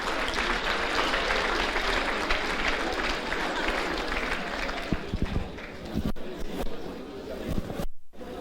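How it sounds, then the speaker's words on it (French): Audience at a university graduation ceremony applauding in a large hall: dense, sustained clapping with crowd murmur that thins out after about five seconds into scattered claps and a brief quiet gap near the end. "On peut l'applaudir, je vous en prie."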